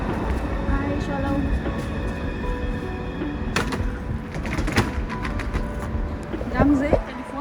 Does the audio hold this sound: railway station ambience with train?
yes